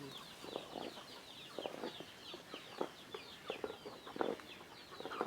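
Several chickens cluck and murmur softly at a distance, in repeated short bursts, with faint bird chirps above the quiet background.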